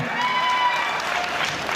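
Audience at the Khandesh festival in Nashik clapping together, a dense, steady burst of crowd applause with faint cheering mixed in.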